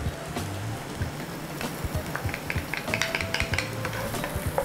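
Garlic and onions sautéing in a hot pan, a close, steady sizzle broken by repeated scraping stirs and light utensil clicks.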